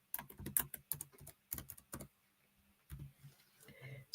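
Quick bursts of typing on a computer keyboard while entering data into an Excel spreadsheet, close crisp key clicks in uneven clusters separated by brief pauses.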